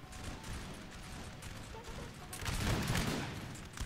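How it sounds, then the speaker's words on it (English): Musket volleys crackle back and forth in a Napoleon Total War battle, a dense, continuous fusillade of overlapping shots that swells louder near the end, with distant battle noise underneath. "Quite a lot of fire going back and forth here."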